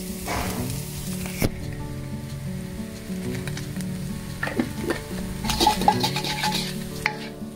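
Chili salt eggs with sugar stirred and tossed in a pan: continuous close sizzling with scattered spatula scrapes and clinks against the pan, a sharp tap near the start and another near the end, with no voices.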